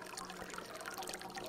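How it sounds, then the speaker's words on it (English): Water from the Croity Cubbon Spring, an old spring on the Isle of Man that once supplied a dwelling, trickles and dribbles steadily, faint and continuous with no voices. "And this is the famous Croity Cubbon Spring."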